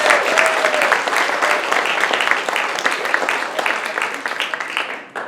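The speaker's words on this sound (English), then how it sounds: "How about a round of applause?" Sustained crowd applause at a meeting, loud and continuous from the start, with a faint voice briefly audible under it and the clapping thinning toward the end.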